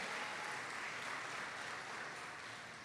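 A church congregation applauds, a steady wash of many hands clapping continuously at a distance, faint and even throughout with no talk over it.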